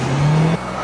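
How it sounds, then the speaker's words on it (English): A race car with a 2-liter inline four-cylinder engine revs briefly and loudly up close, its pitch rising steadily before dropping off sharply into a lower drone. "It's real easy to forget that you're driving a 2-liter inline 4-cylinder engine here."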